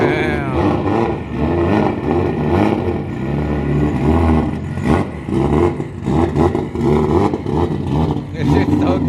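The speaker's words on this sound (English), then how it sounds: "another Aventador. They just sound insane pulling up" A Lamborghini Aventador engine revving as it pulls up, loud throaty bursts rising and falling over several seconds with excited voices talking over it nearby.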